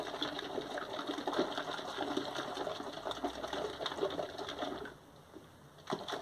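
A glass jar holding tomato seeds and tap water is shaken by hand, giving a busy, rhythmic sloshing rattle for about five seconds before it stops, then a brief knock.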